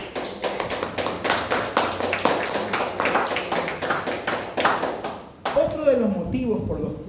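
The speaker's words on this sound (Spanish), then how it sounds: "Denle un aplauso al Señor." Church congregation at a Sunday service clapping together in a steady, even rhythm, loud and close, before the clapping stops and a voice carries on speaking.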